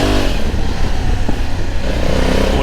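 Honda Africa Twin 1100 motorcycle with an automatic gearbox accelerating on a busy urban ring road, a loud steady engine drone with wind rush throughout, heard from on the bike.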